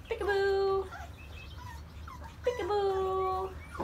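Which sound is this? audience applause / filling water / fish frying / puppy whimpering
puppy whimpering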